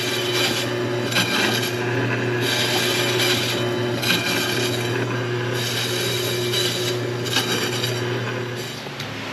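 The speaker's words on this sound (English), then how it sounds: "The slicing is complete." Slicing at a market on a rainy day in Badoc, Philippines, gives repeated rasping, scraping strokes in uneven bursts up close over a constant low background hum.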